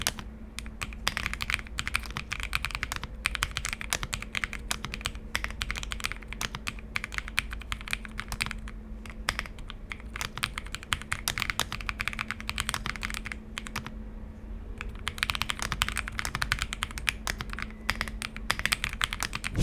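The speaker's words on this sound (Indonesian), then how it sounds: "So buat kalian yang pengen dengar hasil suara typing testnya, kalian bisa dengar suaranya sebagai berikut." Typing test on a Leobog K81 transparent gasket mechanical keyboard: a dense, steady stream of close, crisp keystroke clacks with occasional short pauses, continuing throughout without any talking.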